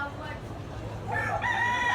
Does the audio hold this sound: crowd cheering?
no